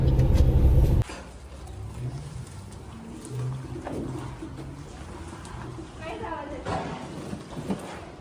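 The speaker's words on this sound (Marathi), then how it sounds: "तर गाडी घेऊन आम्ही निघालोय" A new car drives off with a low engine hum that rises briefly, heard close up under ongoing conversation inside the vehicle.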